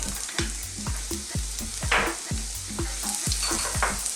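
Garlic and onion fry in hot oil in a wok, a loud, steady sizzle broken by sharp regular scrapes of a spatula roughly every half second, close and without voices.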